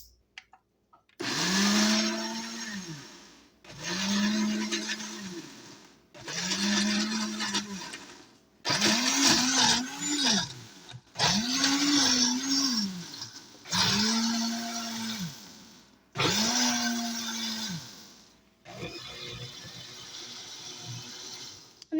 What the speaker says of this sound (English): We're going to put our lid on. And now we're going to blend.